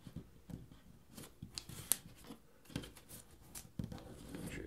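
Paper money being folded and pressed into creases: a run of soft, crisp rustles and sharp little scrapes close by, irregular and quiet, with no talking.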